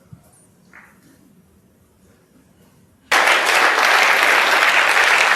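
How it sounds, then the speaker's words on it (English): Snooker crowd applause breaks out suddenly after a quiet stretch, a dense and loud wash of clapping that continues steadily to the end. "The applause is for Mark Selby."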